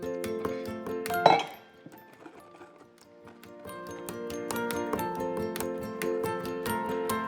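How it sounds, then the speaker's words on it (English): A whisk beating clafoutis batter in a bowl, a rapid series of quiet metallic clinks and taps against the sides after one louder knock, continuing evenly with no talk. "Right, I've moved to me whisk."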